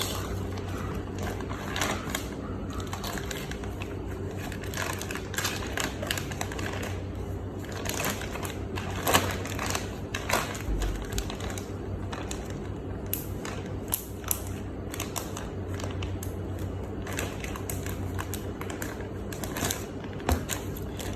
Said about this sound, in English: I will be using the largest IKEA bag to store this